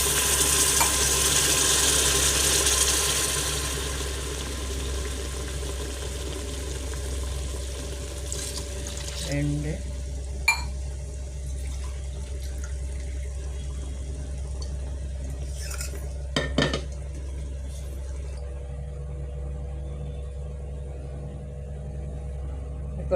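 Water is poured into a pot for mutton biryani, a loud rushing splash for the first few seconds that fades into a quiet steady hiss with a few faint clinks.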